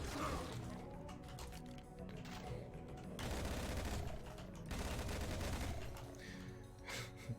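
Gunfire and weapon mechanisms in the Doom mod Trailblazer, with rapid dense bursts of shots mixed with mechanical clanks, heard fairly faint under a heavy, steady game soundscape.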